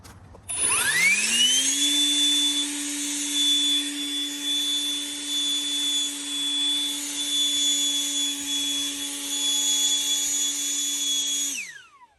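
A cordless handheld leaf blower spins up quickly and runs at a loud, steady high-pitched whine for about eleven seconds before winding down, close by, with no talk.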